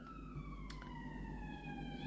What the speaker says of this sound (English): And look how you're hearing sirens now.